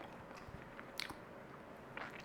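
A crunchy Belgian Liège-style waffle topped with butter and maple syrup is bitten and chewed up close, with two crisp crunches about a second apart against a very quiet background.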